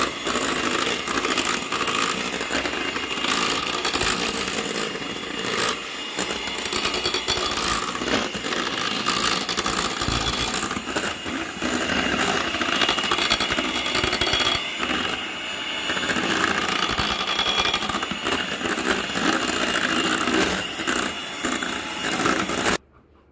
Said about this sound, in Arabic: هنضربه بالمضرب لغايه ما نشوف القوام بتاعه معانا